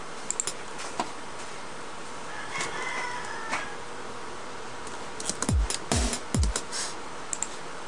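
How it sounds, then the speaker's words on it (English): Chickens cluck and call outdoors, with a few louder squawks near the end over a faint background of clicks and ambient noise. "There's so many chickens here outside."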